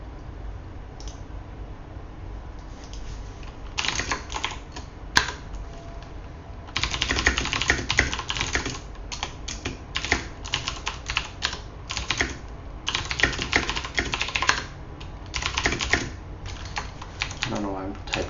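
Typing on a computer keyboard during a programming session, close rapid key clicks coming in uneven bursts and pauses over a steady background hiss, with some low voices mixed in.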